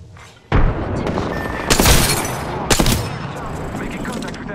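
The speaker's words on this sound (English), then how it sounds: "Frag grenade sent." A frag grenade in the shooter Apex Legends blows up with a sharp, loud blast, followed by a second burst a second later, amid gunfire and a steady rumble of combat.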